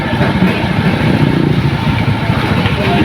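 A motorcycle engine runs steadily at idle after a fuse repair, close and loud, with a rapid even putter and a little background noise.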